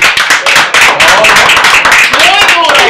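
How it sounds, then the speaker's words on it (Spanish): Audience clapping at a public works event, a steady burst of hand claps filling the whole stretch, fairly loud and close, with voices talking over it. "un fuerte aplauso para Ali."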